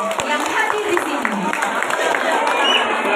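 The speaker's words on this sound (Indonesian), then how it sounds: "Tepuk tangan untuk kita semua yang hadir di sini." Guests applaud at the inauguration of a Catholic church in Kapuas Hulu, a steady wash of clapping from a gathered crowd with a voice talking over it.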